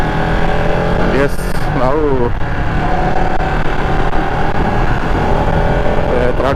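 A Ducati Panigale 959 superbike in race mode runs with a loud, steady engine roar close by, while someone talks over it.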